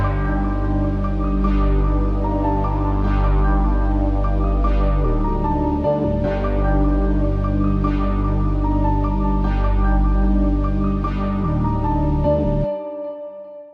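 A dark beat plays: a melody over a growling Omnisphere moog sub bass, loud and steady with a repeating rhythmic pattern, ending abruptly.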